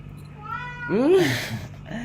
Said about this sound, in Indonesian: Itu bener kucing.